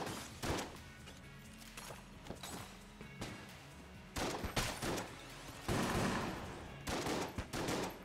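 Repeated shotgun blasts from Enter the Gungeon, loud and punchy, fired in irregular bursts over background game music with no talking.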